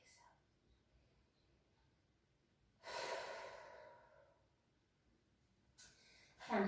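A full exhale during a mat class: one long, soft breath out rises and fades over about a second, followed by quieter breathing in a near-silent room.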